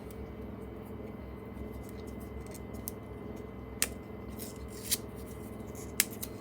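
A silicone mould being peeled off a casting, producing a soft continuous sticky rustle close by, broken by a few sharp snapping clicks as the rubber pulls free.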